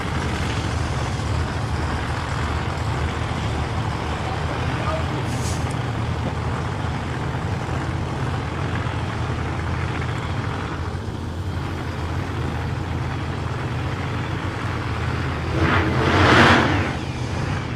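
Drag racing cars roll up to the start lanes at a nostalgia racing meet, a continuous low engine rumble at a distance with a brief hissing burst near the end.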